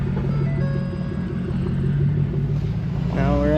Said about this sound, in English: Now there's more cars coming down the road.